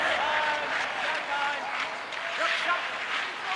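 An ice hockey arena crowd at a tied Leksands IF versus Djurgårdens IF game keeps up a dense, continuous roar of cheering and applause, swelling and dipping slightly without a break.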